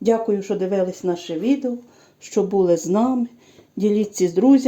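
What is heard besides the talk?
No everyday noise stands out behind the speech.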